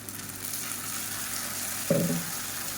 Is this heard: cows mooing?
no